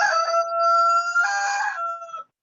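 A rooster crows once, loud and close, in a single long strained call that cuts off abruptly.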